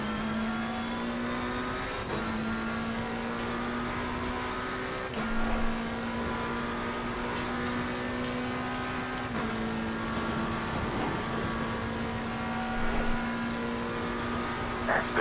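Race car engines in an AI-driven racing game hum steadily with a sustained tone, and the pitch shifts at gear changes every few seconds; there is no talk.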